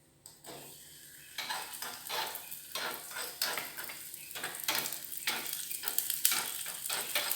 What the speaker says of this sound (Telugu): దీనిలోనే ద్రాక్ష వేసేద్దాం.